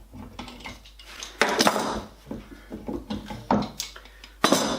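Woodworking clamps being loosened and removed from a maple box with finger joints, a series of close ratcheting, clicking mechanical sounds and wooden knocks in irregular bursts, no talking.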